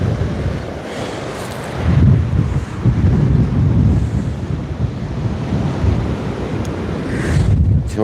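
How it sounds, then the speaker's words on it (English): Strong wind buffets the microphone out at sea from a fishing kayak, a steady roaring rush with surging gusts and waves beneath, continuous and close throughout. "Oh, mate, it's just too windy."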